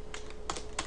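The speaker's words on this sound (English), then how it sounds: "Enter my password for MySQL user." Several quick clusters of key presses as a MySQL password is typed on a computer keyboard, close and fairly quiet, with three bursts of clicks separated by short pauses.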